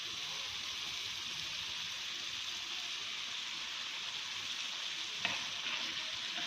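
Chicken white karahi with black pepper and green chilies stir-frying in a pan, a steady soft sizzle with low hiss throughout and a brief clatter of a utensil near the end.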